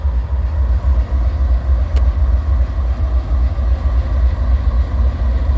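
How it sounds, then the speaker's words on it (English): A westbound North Platte manifest freight train rolls past close by on the Needles Sub near Barstow, a steady heavy low rumble of wheels and cars with a brief sharp squeal near the middle, no talk. "As you can see, a westbound going past us."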